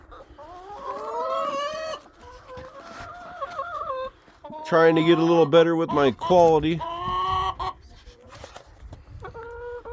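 Roosters of mixed breeds crow and cluck close by in several overlapping bursts, with a long loud stretch of crowing in the middle, while someone talks between and over the calls.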